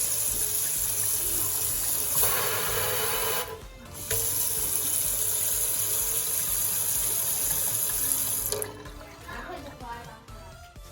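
Water runs steadily from a newly installed kitchen faucet with a sprayer into a replaced sink, a continuous gushing hiss that briefly cuts off and resumes before tapering to quieter splashing.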